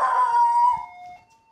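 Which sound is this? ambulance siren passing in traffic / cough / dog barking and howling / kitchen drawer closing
dog barking and howling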